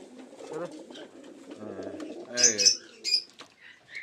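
Soft cooing from white fantail pigeons close by, with a few brief higher chirps toward the end and low murmurs throughout.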